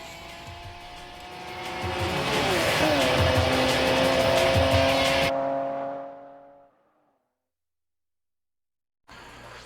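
Street racing in the highway game Tokyo Extreme Racer Zero: a car engine revs up and holds a loud, strained roar with gear-shift dips, then fades away to silence before sound briefly returns.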